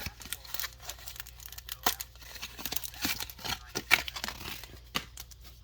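A Pokémon TCG Astral Radiance booster pack being torn open close by, with ragged bursts of foil ripping and crinkling packaging over several seconds and no talking.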